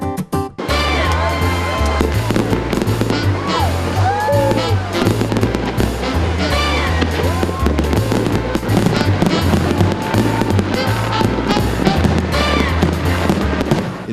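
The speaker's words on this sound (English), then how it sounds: "Fireworks now signal the Memorial Day opening of the falls, 4th of July, and the Labor Day close." Fireworks at the Jackson's Cascades falls, a dense barrage of bursts, crackles and rising whistles over a steady low rumble, loud and continuous from start to finish.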